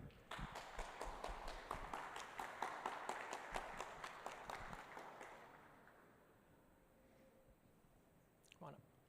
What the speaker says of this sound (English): please, a round of applause for Skyler and Bharath.